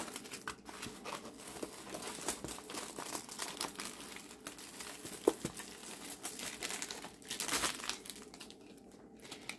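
A diamond painting canvas is unrolled from a plastic pouch, giving a faint, steady crinkling and rustling of plastic and stiff canvas with one small snap partway through.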